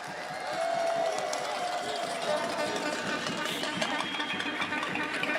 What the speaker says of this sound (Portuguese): Eu quero uma salva de palmas para a galera da geração Z.